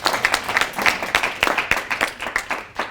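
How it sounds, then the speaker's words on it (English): Dense, steady applause from a seated audience at a public talk, many hands clapping quickly and evenly, fairly close and loud throughout. "What about a round of applause for Barry?"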